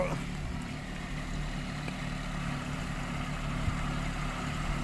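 A small Kubota B2440 24-horsepower tractor, used for spraying herbicide, runs with a steady low engine drone that holds unbroken and fairly close throughout.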